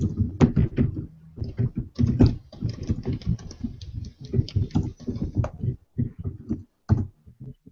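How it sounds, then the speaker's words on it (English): Fingers peck at a computer keyboard in irregular bursts of sharp clicks with short pauses, close to the microphone in a quiet room. "was I pecking at the keyboard?"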